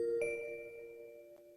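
A fire station alarm bell rings twice, a bright first strike with a long fading hum, then a softer second strike over quiet background.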